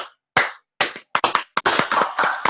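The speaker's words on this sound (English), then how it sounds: "Give her a round of applause." Scattered claps, a few separate slaps at first and then a short, denser burst of clapping, close and fairly loud.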